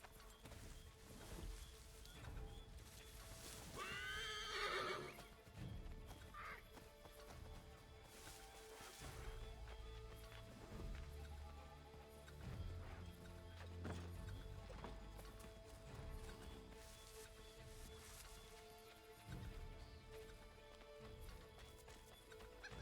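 In the Assassin's Creed III video game, a horse gives a sharp, clear neigh early on, and hooves clip-clop at a steady walk throughout over a soft ambient game backdrop.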